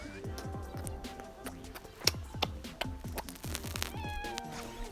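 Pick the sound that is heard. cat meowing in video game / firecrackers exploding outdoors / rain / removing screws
cat meowing in video game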